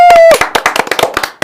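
Hand clapping on a Korean broadcast talk show, a quick run of sharp claps in an irregular rhythm following a brief sustained tone, close and fairly loud with no one talking.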